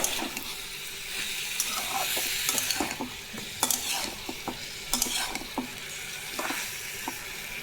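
Chicken cooking over a high flame in a pan for a gravy, frying with a constant sizzle and repeated scraping and stirring clicks of a utensil, close and loud, with no talking.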